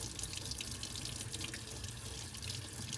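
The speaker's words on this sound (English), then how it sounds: "Turn on the water" Tap water runs steadily into a sink while a paintbrush is rinsed clean of soap, a continuous close splashing hiss with no voices.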